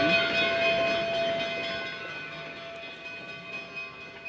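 Steam locomotive 476 rolls across 6th Street in Durango toward the station, a steady rumbling train sound with a bright sustained whistle-like tone early on, close and fairly loud, fading slightly.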